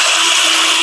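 A fifteen-year-old power drill with a sticking trigger runs steadily while boring out a stripped LS engine valve cover bolt hole, giving a continuous loud high-pitched whine throughout with no talk.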